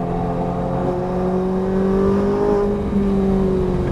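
A Ferrari 458 Italia engine accelerates on a racetrack, its pitch rising smoothly through a gear, loud and close, with a steady whirring drone beneath.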